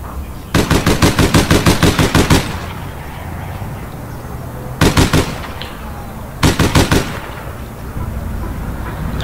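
Automatic gunfire in the online shooter APB Reloaded: a long rapid burst, then two shorter bursts a few seconds apart, loud and sharp over a steady game background.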